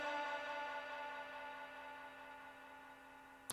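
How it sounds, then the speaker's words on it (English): An electric guitar note rings out into a long reverb and delay trail, a sustained tone that slowly fades and softens, ending with a brief click. "Long reverb delay trail there."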